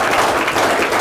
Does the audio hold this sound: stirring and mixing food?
no